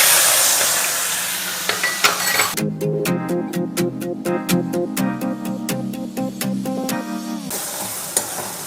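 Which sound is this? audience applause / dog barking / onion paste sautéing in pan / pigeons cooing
onion paste sautéing in pan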